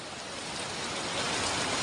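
Steady rain falling across a college campus in Laur Fatehpur on a rainy day, a continuous broadband hiss with no distinct drops or voices, growing slightly louder.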